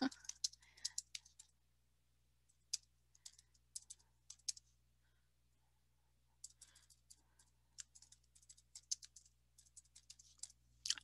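Quiet keyboard typing in scattered bursts of quick clicks, with pauses between runs of keystrokes.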